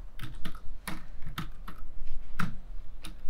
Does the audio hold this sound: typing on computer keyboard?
yes